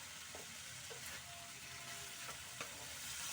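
Food frying in a kadai with a little sugar added, a steady soft sizzle with occasional scraping stirs of a spatula, quiet and continuous.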